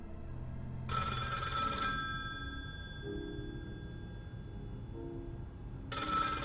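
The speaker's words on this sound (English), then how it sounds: "The phone rings, and Daniel's absent brother Jason is callin" A telephone rings in two long bursts separated by a pause of about four seconds, with a low background hum between rings.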